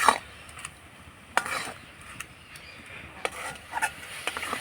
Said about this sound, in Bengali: নাড়াচাড়া করে আমি পুটটা ঝরঝরে তৈরি করে নিয়েছি